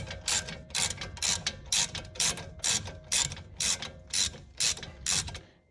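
A ratchet loosens a brake caliper bolt on a BMW F20/F30, clicking in a steady rhythm of about a dozen crisp, close bursts, alone without talk.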